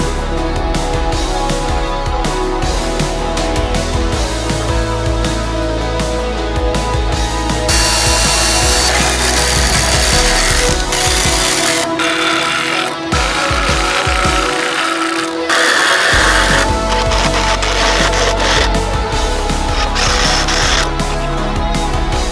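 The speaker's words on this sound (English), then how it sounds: "then I'm going to start screwing everything together." Power tool driving screws into scrap-wood panels for a backyard chicken coop: loud, continuous whirring and buzzing with shifting pitch and brief pauses, close up, with no talking.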